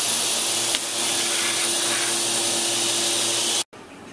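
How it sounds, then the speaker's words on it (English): An abrasive power tool grinds and polishes a stainless steel weld on the front panel of a split milk tank, a loud, continuous, high-pitched whirring that runs unbroken and then cuts off abruptly near the end. "I shall be grinding the weld smooth and polishing it"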